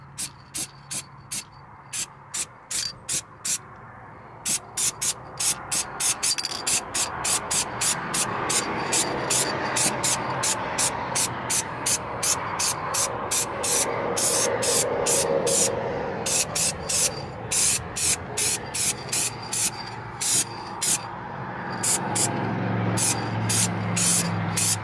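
Hammered-finish spray paint hissing from an aerosol can onto Montecado wheels, in a long run of short, rhythmic bursts that come close and clear, with a steady broadband background underneath.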